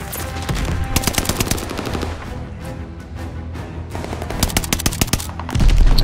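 Rapid automatic gunfire in Call of Duty: Vanguard, loud bursts of shots in quick succession with short lulls, close and dense, ending in a heavier blast, with no talk.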